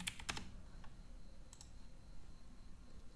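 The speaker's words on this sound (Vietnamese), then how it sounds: "bàn phím máy bàn này" Keys on a desktop computer keyboard tapped quietly, a few scattered clicks at the start and another pair a moment later, with faint room hiss between.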